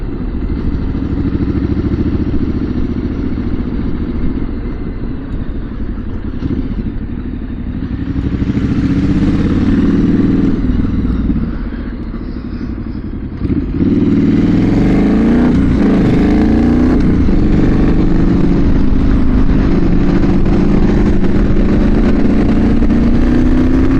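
A motorcycle with a water-cooled engine runs nearby on an autumn bike night, its steady mid-pitched engine note rising and falling through a few revs, with clattering and passing traffic noise around it.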